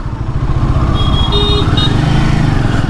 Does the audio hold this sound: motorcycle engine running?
yes